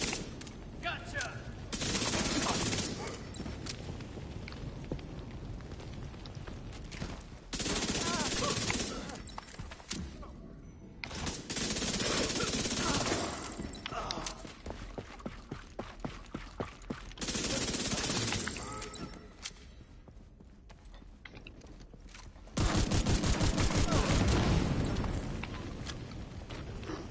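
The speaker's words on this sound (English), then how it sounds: "Was that gunfire?" Video game firefight with bursts of rapid automatic gunfire and scattered single shots, loud and close, broken by short pauses and occasional shattering impacts, with faint in-game voices in between.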